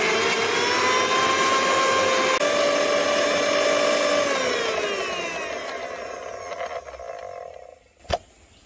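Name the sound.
mixer grinder grinding green chillies, mint, coriander into paste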